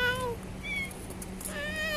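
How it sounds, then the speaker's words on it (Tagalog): Several cats meow near a building in Kuwait, a few clear, drawn-out mewing calls that rise and fall, one at the start, a short one in the middle and another toward the end, over a steady low background hum. "Daming pusa."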